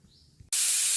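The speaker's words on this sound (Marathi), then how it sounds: "हे बघा कुकरच्या चार शिट्ट्या झालेल्या" A kitchen pressure cooker cooking cowpeas on a gas stove lets out steam: after near silence, a loud, sudden hissing whistle bursts on and holds steadily, close by.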